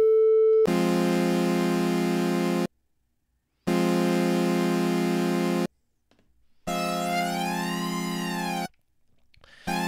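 A bright, buzzy synth chord in Bitwig Studio sounds in three sustained bursts separated by short silences, the last one passed through a flanger, sweeping with a swirling, resonant, metallic, jet-like shimmer.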